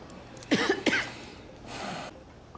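A feverish patient coughs in a hospital TV drama: two sharp, close coughs in quick succession, followed by a softer breathy exhale or throat sound.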